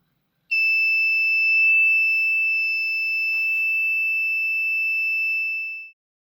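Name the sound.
alarm buzzer sounding on MSP430 board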